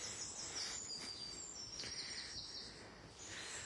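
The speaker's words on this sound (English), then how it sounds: "Birds singing." Birds chirp and sing among trees in Kincorth, a steady wash of faint, distant twittering over soft outdoor background noise.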